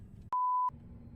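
Telephone in an indie video game giving a single clean electronic beep, steady and pitched, lasting about a third of a second over a quiet low hum.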